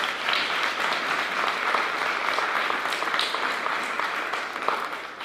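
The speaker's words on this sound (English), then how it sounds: "please give her a nice round of applause" Applause fills a school board meeting for a chorus director: many people clapping at once in a steady, even roar at moderate distance, fairly soft overall and without letting up.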